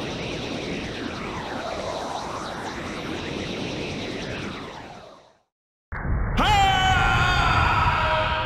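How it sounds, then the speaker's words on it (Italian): Transport aircraft engine from the video game Snatcher: a loud sweeping roar that rises and falls for about five seconds, cuts to brief silence, then returns as a bright, sustained engine whine with a sudden onset. "Aereo da trasporto in attesa."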